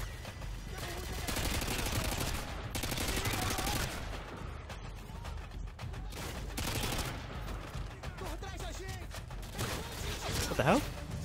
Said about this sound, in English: Oh, I'm getting shot from both sides.